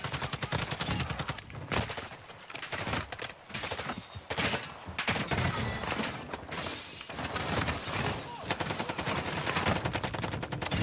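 Loud bursts of gunfire fill a DMZ video game match, with rapid automatic fire, sharp single shots and shattering impacts packed densely together throughout, no voices over it.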